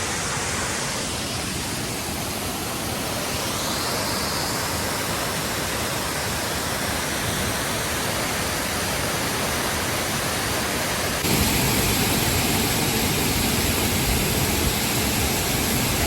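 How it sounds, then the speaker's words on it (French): Loud, continuous roar and splash of a waterfall in Norway, spray hitting close to the microphone, steady broadband rush that grows slightly harsher and louder near the end, with no talking. "on est éclaboussé par l'eau de la cascade"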